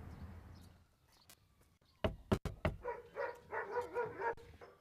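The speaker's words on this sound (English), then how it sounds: "he has a big problem with him barking when people come to the house" An English Springer Spaniel barks at visitors at a house, with a few sharp close barks followed by a run of whining yips and howling vocalisations.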